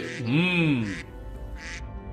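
A cartoon duck gives a single drawn-out, wavering quack that sounds close and voiced, likely performed by a person, followed by a couple of short breathy sounds.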